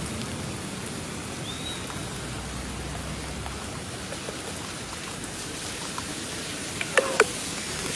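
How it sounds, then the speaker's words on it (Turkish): Steady rain falls throughout, a dense even hiss of drops on surfaces outdoors near a tent city in Kahramanmaraş, with a few faint brief knocks near the end and no talking. "Yağmurun hızı da hafifledi."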